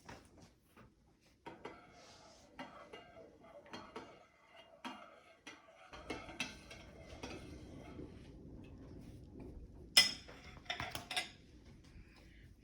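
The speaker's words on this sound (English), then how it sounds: "Now I'm going to stir." A spoon stirs in a bowl during a simple floating-egg kitchen experiment, with scattered clinks and scrapes against the dish and a busier, louder rattle toward the end.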